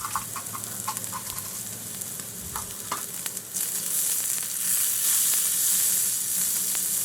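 Chopped onion and chili sizzle steadily in a pan with a little salt, with occasional spatula scrapes and clicks near the start before the frying hiss swells louder.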